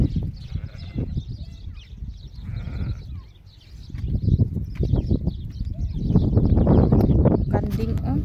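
Goats bleating on a farm, several loud, close, quavering calls that come in bursts and overlap toward the end, mixed with a person talking nearby.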